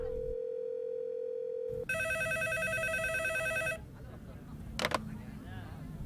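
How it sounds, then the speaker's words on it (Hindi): An incoming call rings at a public telephone booth: a steady tone gives way to about two seconds of loud, bright electronic ringing, followed by rustling and a brief click. "पब्लिक टेलीफोन बूथ पर इनकमिंग कॉल कैसे आ सकती है?"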